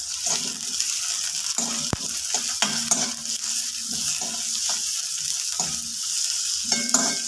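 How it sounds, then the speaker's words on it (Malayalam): Sliced onion sautéing in a pan, a constant sizzle repeatedly broken by scraping stirring strokes at an uneven rhythm, close and fairly loud, with one sharp knock along the way and no voices. "ആദ്യം ഉള്ളി ഇട്ട് ഒന്ന് വഴറ്റി കൊടുക്കാം"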